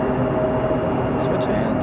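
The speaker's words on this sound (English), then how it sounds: "that Dreamliner coming up" A Boeing 787 Dreamliner approaches Raleigh-Durham airport, its distant engines making a steady broad roar with a thin whine, while people talk softly over it.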